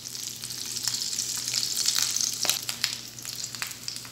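Egg and potato pieces sizzle and crackle in a hot oiled pan, a steady close frying hiss with scattered pops and spits throughout while they are turned, no voices.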